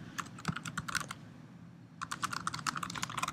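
Quick bursts of typing on a computer keyboard, close and clear, with a brief pause mid-way before the rapid key clatter resumes.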